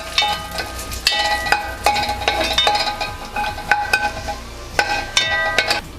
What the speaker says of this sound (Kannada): ಸ್ವಲ್ಪ ಫ್ರೈ ಮಾಡಿ ಬೆಳ್ಳುಳ್ಳಿ ಒಂದು ಸ್ವಲ್ಪ ಕಂದು ಬಣ್ಣ ಬರೋವರೆಗೂ